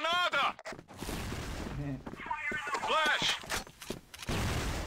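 Gunfire in the online shooter Crossfire during a competitive match, rapid bursts and single shots with clicks and footsteps, while a voice talks over parts of the action.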